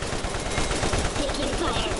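Gunfire in the video game Borderlands, a steady rattle of rapid automatic shots, dense and loud, with speech mixed into the clatter.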